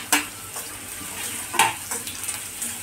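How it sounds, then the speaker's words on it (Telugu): Onions and green chillies fry in a pan for a bitter gourd fry, a soft sizzle broken by a few sharp scrapes and clinks as a spoon stirs against the metal. "కొంచెం వేయించండి ఉల్లిపాయలు దానిపైన నుంచి ఇంకా పచ్చిమిర్చి వేసేసుకోండి"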